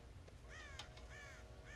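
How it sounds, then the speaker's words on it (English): Crows caw in Red Dead Redemption, several harsh calls in quick succession, faint and somewhat distant over a low ambient rumble. "God damn crows!"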